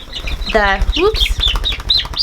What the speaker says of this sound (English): The meat chicken eggs that we hatched ourselves are these guys right here.